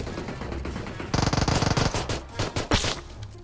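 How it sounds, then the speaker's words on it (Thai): Pistol gunfire in the PUBG Mobile battle royale game: a rapid run of about six sharp, loud shots close together, followed by a few more scattered shots over a steady game background. "หกนัดยิงไปหกนัด ไม่นอกสมแล้วที่เป็นปืนพก"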